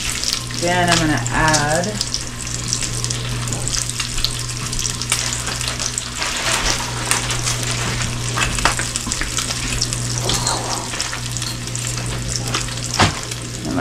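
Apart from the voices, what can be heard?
bacon frying in a pan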